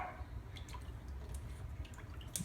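Blue Quaker parrot splashing in water, with small irregular drips and light splashes, quiet and close.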